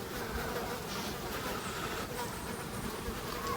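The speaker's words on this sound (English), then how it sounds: "I'm being attacked by bees" Bees buzz continuously close by at a campsite, a dense droning hum with insects darting near and away, no talking.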